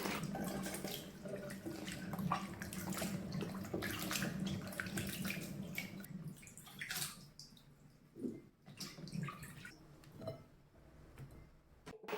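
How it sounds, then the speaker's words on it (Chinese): Wampee fruit washed in a basin of water: close, steady sloshing and splashing, with trickles and drips as the water settles. "黄皮连同水倒入盆中，多清洗几遍，清洗干净"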